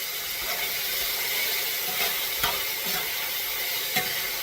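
Sticky pork with sweet chili sauce cooking in a pan, an even, loud, dense sizzle throughout with a few faint stirring scrapes, no one speaking.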